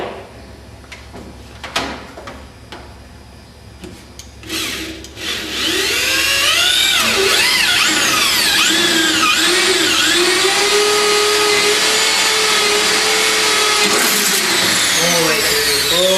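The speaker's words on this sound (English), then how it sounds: "So you can now drill through those holes." A drill bores through pre-marked holes in a metal plate, spinning up after some handling clatter into a loud sustained whine with wavering pitch as the bit cuts, close and continuous.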